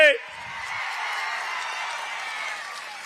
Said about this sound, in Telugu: న్యాయం కాకపోతే గట్టిగా చప్పట్లు కూడా చెప్పండి